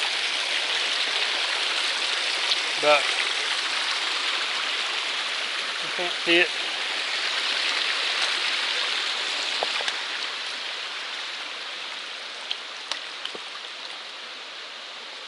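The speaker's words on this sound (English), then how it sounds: "It's probably a waterfall. I mean, it is roaring." A roaring river or unseen waterfall beside an Appalachian Trail route during a flip-flop hike: a loud, continuous broadband rush of water throughout, with a voice speaking briefly over it.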